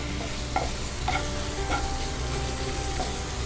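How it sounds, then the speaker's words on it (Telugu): Chopped tomato with mint frying and being stirred in a pan for aloo chaat, giving a steady close sizzle with a few soft scraping stirs and no talk. "దీన్ని కూడా వేసేసి మళ్ళీ ఒక 2 minutes ఫ్రై చేసుకోవాలి"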